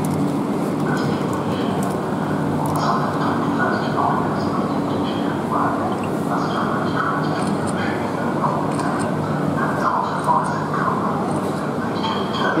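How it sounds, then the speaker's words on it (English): A Southeastern Class 375 electric train departs Ashford International, with a continuous rail rumble and a scattering of clanks and squeals. Voices and platform noise run throughout. "375, shortly depart Ashford International for London Charing Cross."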